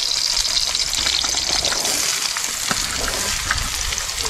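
Chopped snake gourd and ridge gourd fry in hot ghee with green chillies, a loud, continuous, close sizzle with crackling throughout.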